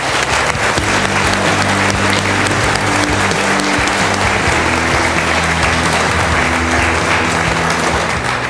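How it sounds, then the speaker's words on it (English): Guests at an amateur art exhibition opening at a county arts center clap in a loud, continuous round of applause, with a low steady tonal hum running beneath the crowd. "Let's give a round of applause."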